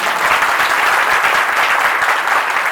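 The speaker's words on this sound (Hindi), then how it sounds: "तो बजा दो जोरदार ताली।" A burst of loud, dense applause from a large crowd at a monthly Maha Aarti religious gathering in Pathariya, clapping steadily and evenly for a few seconds.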